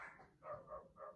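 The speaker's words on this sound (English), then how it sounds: "Our next door neighbor's dog is barking up a storm." A neighbour's dog barks in three quick, fairly faint barks from a short distance away, with no talking over them.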